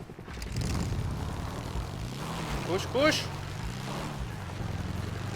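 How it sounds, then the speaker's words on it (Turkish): A helicopter in the GTA V zombie mod game hums with a steady engine drone, overlaid with game sounds and someone talking loudly over it. "Aha helikopter beni buldu aga."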